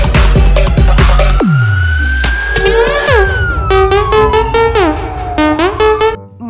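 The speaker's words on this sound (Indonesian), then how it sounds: "Mobil polisi." A toy police siren wails in rising and falling electronic tones, mixed with rapid clicks and beeps, loud and close.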